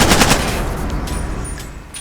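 Machine-gun fire in the video game Far Cry 2: a loud, rapid burst of shots at the start that quickly thins into a decaying, rumbling tail and faint background ambience, with no talking.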